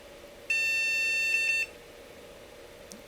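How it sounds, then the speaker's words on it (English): A single electronic beep tone from a failing recapped vintage graphics card on a failed boot holds for about a second, followed by a couple of short faint chirps, in an otherwise quiet room. "we're getting some weird beeps, but unfortunately absolutely nothing on the screen"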